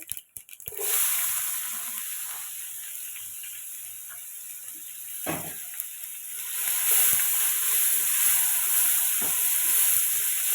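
Onions frying in a pan for an eggplant and leafy-greens sour curry, giving a steady, close hiss of sizzling oil with a few sharp clicks and pops.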